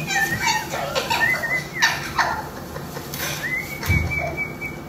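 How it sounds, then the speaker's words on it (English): Children at a forest school shout and call out at a distance, their high voices mixing with chirping birds in an open outdoor space. "in the distance the sound of children playing at forest school"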